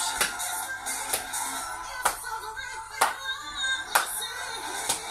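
Hand claps from an exercise class leader during a warm-up routine, sharp and fairly close, landing roughly once per second in a steady rhythm over a soft background hum.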